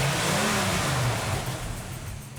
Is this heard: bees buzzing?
no